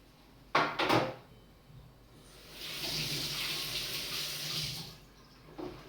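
Two pears washed under a running kitchen tap: a few clunks at the start, then a steady stream of water splashing into the sink for a couple of seconds before it stops with a final knock.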